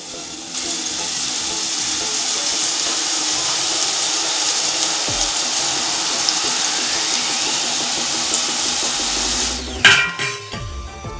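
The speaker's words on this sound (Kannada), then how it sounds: "ಈಗ ಎಣ್ಣೆ ಬಿಸಿಯಾಗಿದೆ, ಇದಕ್ಕೆ ಹಿಟ್ಟನ್ನು ಹಾಕ್ಕೊಳ್ಳೋಣ." Boondi batter for motichoor ladoo poured through a perforated ladle into hot oil, a steady broad hiss of frying filling the whole stretch, ending with a few clattering knocks of the ladle.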